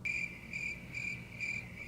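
Crickets chirp in steady repeated bursts, about four evenly spaced trills, with a low hum of background noise underneath and no talking.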